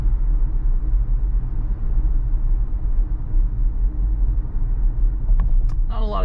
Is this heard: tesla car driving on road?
yes